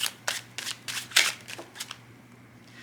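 Tarot cards shuffled by hand in a quiet room, giving a series of short papery riffles and snaps at irregular intervals, the loudest burst near the middle, with a steady low hum underneath.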